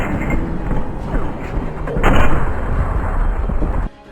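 M14 Custom and Mazur LDR rifles fired in Uncharted 4, a dense run of booming shots and heavy thuds layered with rumbling explosions, loud throughout and stopping abruptly near the end.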